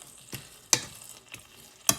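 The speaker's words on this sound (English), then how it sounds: "sizzling a little bit" Unsalted butter crackles and sizzles in a hot pan on a burner, with a few sharp spattering pops standing out over a soft frying hiss.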